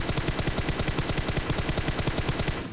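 Rapid automatic gunfire in the mobile game PUBG Mobile, a loud, continuous, evenly spaced burst of shots running the whole length with no pauses or talking.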